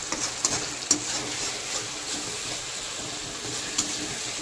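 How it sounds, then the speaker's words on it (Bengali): Tomato chicken gravy stirred in a kadai, a steady soft sizzle and bubbling broken by a few faint scrapes and taps of the spoon against the pan, close by and without voices. "একটু জাস্ট হালকা আমরা নেড়ে নেবো যাতে কড়াইতে না বসে যায়।"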